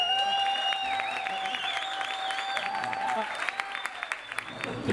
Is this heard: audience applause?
yes